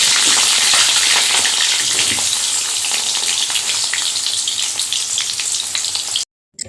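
Potatoes and onions fry loudly in a pan with a steady, dense sizzle, with occasional stirring scrapes mixed in, before the sound cuts off abruptly near the end.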